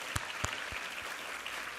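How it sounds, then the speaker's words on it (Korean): Applause from a church congregation during a Sunday worship service, a dense wash of clapping with a few sharper claps standing out near the start, moderately quiet and steady, with no talk over it. "우리 하나님께 감사와 영광의 박수 올려드리겠습니다."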